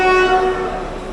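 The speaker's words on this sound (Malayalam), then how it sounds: "56332 നിലമ്പൂർ ഷൊർണൂർ പാസഞ്ചർ, രാജറാണിയുടെ റേക്ക് ഉപയോഗിച്ച് ഓടുന്ന പാസഞ്ചർ ഇറങ്ങി പോവുകയാണ് അങ്ങാടിപ്പുറത്തു നിന്ന്" Nilambur-Shoranur passenger train, running with a Rajarani rake, departing Angadipuram station in Kerala: a loud, sustained tonal horn blast with a rumbling train beneath, fading slightly toward the end.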